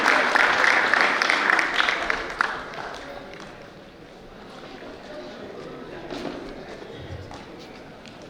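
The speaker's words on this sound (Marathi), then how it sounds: "जोरदार टाळ्या होऊन जाऊ दे आपल्या निमंत्रितांसाठी," An audience claps for invited guests at a lecture session, a dense burst of applause that fades after a few seconds into quieter room noise.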